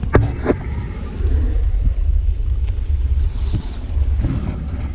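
A sailing boat motoring on a single engine at about six knots, giving a steady low engine drone under wind buffeting on the microphone, with a few brief knocks over the rumble.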